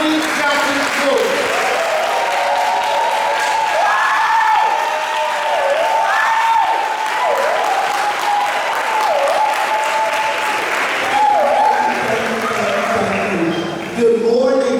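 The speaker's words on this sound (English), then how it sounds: "can we give a big round of applause for our national president, President Dr. Courtney Johnson Rose." A big round of applause at a community wealth-building event, sustained crowd clapping that stays loud and dense throughout, with a voice rising over it in sustained tones and some cheering toward the end.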